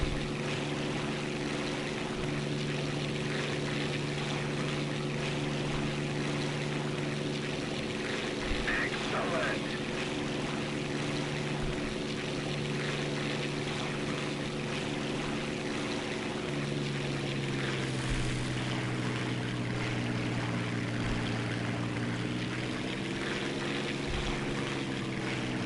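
A propeller plane comes in to land in War Thunder, its engine a steady droning hum with shifting pitch, joined by constant wind rush, lasting about twenty-five seconds.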